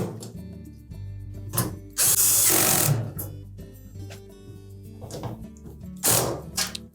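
A power drill drives screws into a Samsung dryer panel during a repair, several short whirring bursts of the motor separated by pauses, close and clear.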